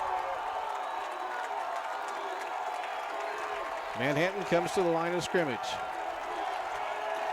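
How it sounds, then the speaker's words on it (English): A stadium crowd at a high school football game roars and cheers in the distance beneath a play-by-play announcer's steady talk, with a brief swell of whoops partway through. "The crowd's cheering."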